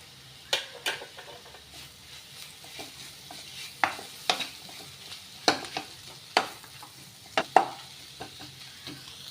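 Tomatoes with salt sauté in a pan for a capsicum gravy, a quiet, low sizzle punctuated by a dozen or so distinct spoon clicks and scrapes at irregular intervals.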